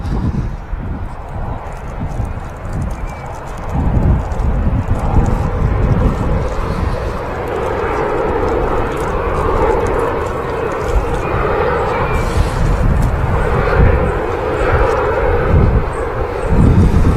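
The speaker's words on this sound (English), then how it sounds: "Ryanair 737-800 just landing here on 23 right at Manchester" A Ryanair Boeing 737-800 airliner lands on runway 23 right at Manchester Airport, a steady broadband jet roar that holds at a constant level across the whole stretch, mixed with gusty wind buffeting on the microphone.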